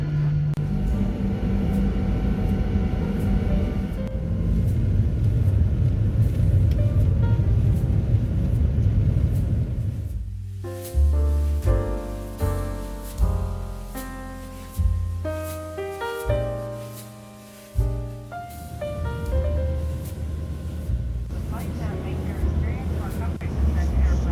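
Inside a Sun Country airliner cabin during takeoff, a loud steady engine roar and rumble fills the space, dropping away midway under shifting tonal sounds before the heavy roar builds back.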